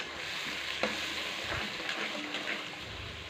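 Spice paste frying in oil and being stirred, a dense close sizzle with a few soft scraping strokes from the spoon, no talk.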